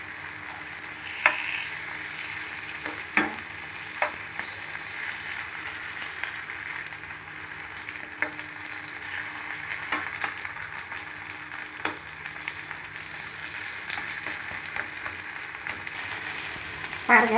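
Coin parottas (small flaky parathas) fry in an oiled pan with a steady close sizzle, broken by occasional soft clicks and scrapes as they are turned.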